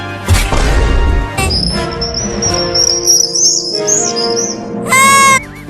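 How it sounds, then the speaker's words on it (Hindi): Several high, bright chirps from a bird sound over a busy, loud background with bangs and clatter, then a short burst of rapid trilling near the end. "वो रसगुल्ला एक चिड़िया लेकर उड़ गई।"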